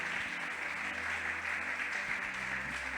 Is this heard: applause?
yes